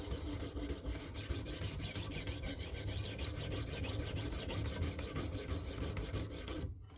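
A Bubba Blades fillet knife is worked steadily on a KME sharpener's lower-grit stone, producing a continuous close rasping scrape with a rhythmic back-and-forth pulse, fairly quiet and alone.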